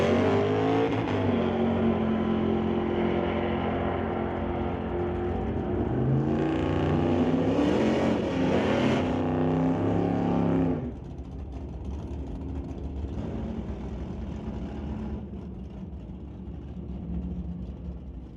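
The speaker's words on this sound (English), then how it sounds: "racing his Dodge Challenger from 2009 against Lucas Taggart in the Scat Pack Dodge" Drag race between a 2009 Dodge Challenger and a Scat Pack Dodge, loud roaring V8 engines revving and climbing in pitch, surging louder midway before dropping to a steadier, quieter drone.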